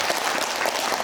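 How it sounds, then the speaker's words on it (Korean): Audience at a healthcare symposium in Ansan bursts into sustained applause, a dense wash of many hands clapping evenly throughout, with no talk over it. "박수 한번 주세요"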